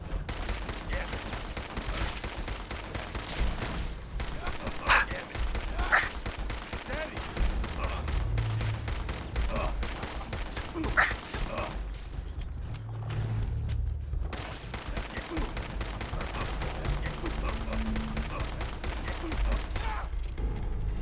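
Rapid automatic gunfire fills a Fallout 4 firefight in survival mode, dense bursts of shots rattling almost continuously with brief pauses and heavier booms, a voice talking underneath.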